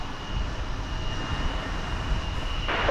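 An airliner at DFW Airport gives a steady, moderately distant engine roar and rumble that holds throughout without a break.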